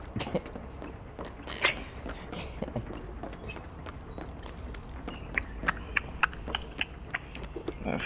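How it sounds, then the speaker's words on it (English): Heavy footsteps thud in quick repeated bangs in a video game, a rhythmic series of loud impacts that grows punchier toward the end, with faint talk underneath. "Loud ass footstep. Bang, bang, bang, bang."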